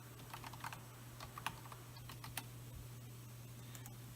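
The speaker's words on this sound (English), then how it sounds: "I have to type in a password." Fingers tap out a password on a computer keyboard, a steady run of soft, irregular keystrokes over low electrical hum, with a couple of slightly louder key presses.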